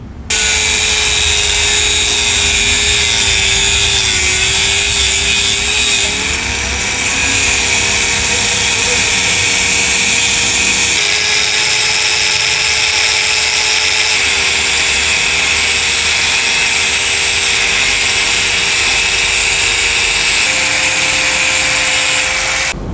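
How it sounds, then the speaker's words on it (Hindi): A power tool cuts grooves into the kick-start lever of a Honda CD 70 motorcycle, with a loud, continuous, high-pitched whine and grind that holds nearly steady for over twenty seconds and shifts slightly in pitch now and then. "आप किक में जैसे झरी डालते हैं वो झरी आपको डाल के दिखाते हैं"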